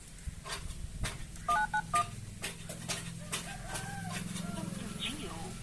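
A short run of electronic keypad dialing beeps, a few quick tones in a row, over faint background chatter and room noise.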